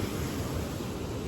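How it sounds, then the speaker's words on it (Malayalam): Sea waves wash against an eroded sandy shore near a seaside church in Kerala, a steady broad roar of surf close by and without any talk. "കടലടിക്കുന്നുണ്ട."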